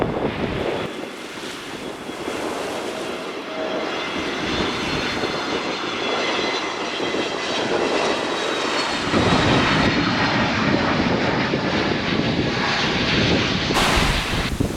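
A passenger plane landing at Gibraltar airport, heard from the beach as a loud, steady jet engine roar that builds and holds, mixed with gusty wind buffeting the microphone and breaking surf.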